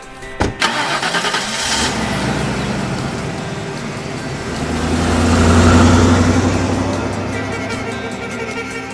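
Car engine from an audiobook sound effect, turning over with a sharp start at the beginning, then running steadily at idle with a swelling rev in the middle, close and alone without any voices.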